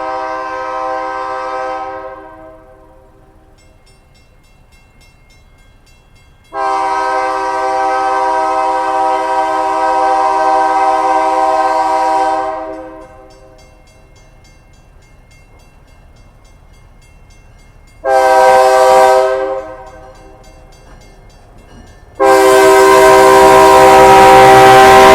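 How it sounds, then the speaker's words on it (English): At a Kentucky railway museum, a train sounds its horn in long, loud blasts separated by quieter stretches of rumbling wheels on track, the final blast fullest and nearest. "There goes our train."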